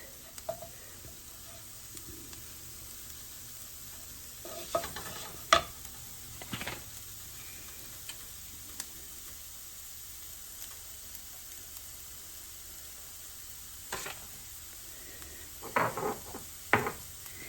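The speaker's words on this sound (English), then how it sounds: "Just stir that around for about a minute." Shrimp sauce with black pepper sizzles quietly in a pan while being stirred, with a low steady hiss broken by a few scraping utensil strokes and clinks near the middle and end.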